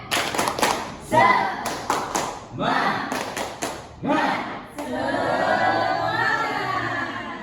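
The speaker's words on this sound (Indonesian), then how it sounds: "Ibu mau ngetes semangatnya dengan tepuk semangat" A class of children performs a rhythmic spirit clap in a classroom, quick bursts of clapping broken by short spoken calls, then a longer sustained stretch of clapping near the end.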